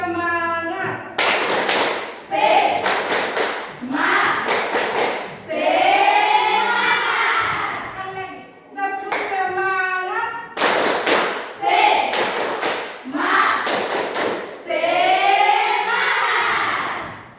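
Schoolchildren performing the 'tepuk semangat' rhythmic group clapping, loud sharp bursts of claps in a patterned rhythm alternating with shouted chanted phrases, repeated several times.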